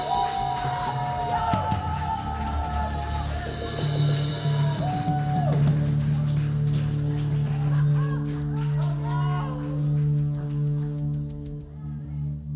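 A church congregation at a Sunday service shouts and cheers, loud sustained crowd yelling and whoops layered over a steady musical drone, with voices rising and falling throughout.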